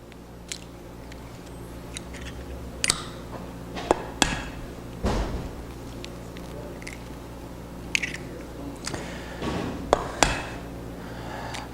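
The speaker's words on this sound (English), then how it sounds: "in the middle of that, I'm going to crack 3 large eggs" Three large eggs cracked for homemade pasta dough, with sharp close taps and cracks spaced across the stretch over a low steady background hum, no speech.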